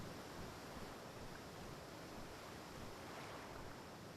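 Steady rushing wash of waterfalls in ARK Survival Ascended on the Valguero map, a broadband noisy roar that stays even and unbroken throughout, moderately quiet with no voices.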